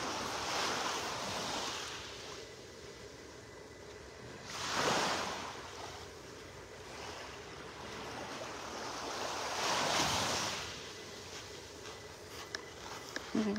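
Ocean waves on the beach in North Naples, Florida, rolling in with broad surges of surf about every five seconds over steady wash and light wind, with no talking.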